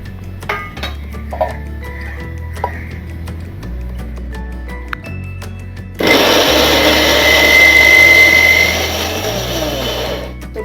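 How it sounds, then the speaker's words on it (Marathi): A mixer grinder coarsely grinds soaked soybeans, starting with a loud steady whir midway after quiet ticking and light clatter, holding a strong roar for several seconds before easing slightly toward the end. "आता आपण हे फुगलेले सोयाबीन मिक्सरला जाडसर वाटून घेऊयात."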